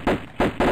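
Rapid automatic gunfire from the video game Tomb Raider, three loud bursts in quick succession, each a dense rattle of shots with brief gaps between.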